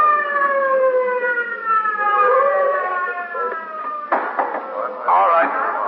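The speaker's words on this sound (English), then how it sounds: "was driven to the scene of the occurrence with siren wide open" A police car siren from an old radio drama sound effect, a long steady wail sliding slowly downward with a narrow, radio-like tone, followed by clattering bursts as it fades. Voices join near the end.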